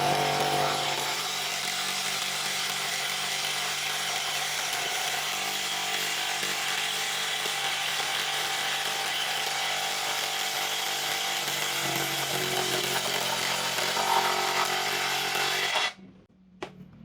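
A DongCheng DCPB358 impact wrench bores through a thick wooden beam with a loud, continuous whirring grind that runs steadily for about sixteen seconds, then cuts off abruptly.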